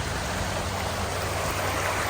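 Small river running past a rest stop in Tillamook, Oregon, a steady broadband rush of flowing water close by, continuous and even with no talking.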